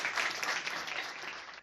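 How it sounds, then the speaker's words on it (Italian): Warm applause breaks out in a council meeting, a dense, steady round of clapping that holds and then tapers off sharply. "l'elezione della Belcastro, sottolineata comunque da un caloroso applauso."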